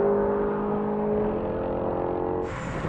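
BMW M3, Mercedes-AMG C63 and Audi RS4 V8 cars drag racing, heard as a steady, loud engine roar with a sustained tonal whine that shifts near the end, no voices.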